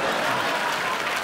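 An audience claps loudly and continuously at a live Indian entertainment event, a dense crowd applause close and steady, with a voice faintly mixed in underneath.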